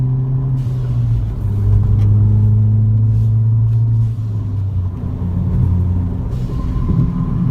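Low rumbling car exhaust with MBRP and Mountune parts drones steadily while driving, with faint rattling from the exhaust cans over the deep hum, loud and continuous.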